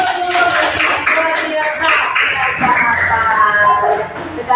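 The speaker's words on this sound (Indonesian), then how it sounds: "tepuk tangan buat seluruh mahasiswa" Audience clapping for a group of university students at a Quran recitation event, dense overlapping claps mixed with murmuring voices and some tonal sound, fairly loud and steady throughout.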